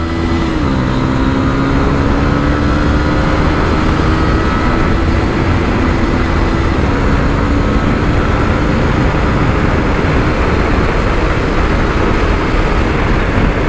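A motorcycle that has just been serviced rides along the road, its engine holding a loud, continuous drone with a slow pitch shift, thick with wind rush and no break throughout.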